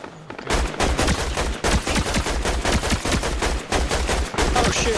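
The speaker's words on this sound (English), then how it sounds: "They're firing on Silva." Rapid automatic gunfire in a video game shootout, dense bursts of shots crackling in quick succession across the whole stretch, loud and close, with only brief gaps between volleys.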